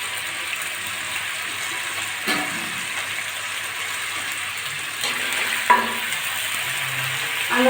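Chicken Maggi noodles fry in a pan with a steady, close sizzle, broken by a few scraping stirs and clinks of the utensil against the pan.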